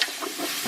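A spoon stirs a thick pot of 15 bean and ham soup with kale, a brief close scraping, slurping swish over a faint sizzling hiss.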